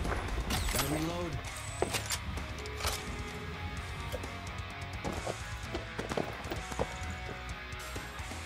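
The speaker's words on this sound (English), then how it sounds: "Gotta reload." Weapon reloading in the video game Hyper Scape: a busy run of mechanical clicks, ratchets and metallic clacks, close and crisp, layered over dense game ambience with brief vocal sounds.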